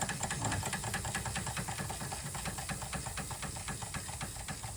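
A Doll 364 model steam engine runs on the last of its boiler pressure after the gas is shut off, giving a steady rapid chuffing and mechanical clatter with a hissing wash of steam, close and continuous.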